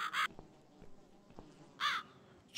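A crow in the video game The Cat Lady caws twice, harsh and clear, with the calls spaced over a second apart above a quiet, low ambience.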